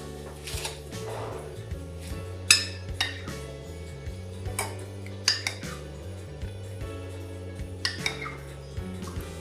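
Ground icing sugar being mixed in a bowl, a run of irregular clinks and scrapes of utensil against the bowl, close and fairly quiet, with a few sharper knocks along the way.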